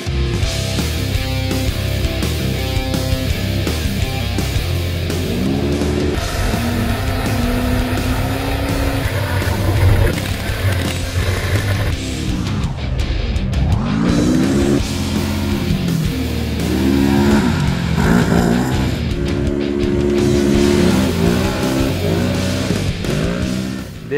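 A 2014 Polaris RZR XP 1000 side-by-side runs hard on desert trails in Arizona, its engine loud and continuous, rising and falling in pitch as it accelerates and lets off, with no talking over it.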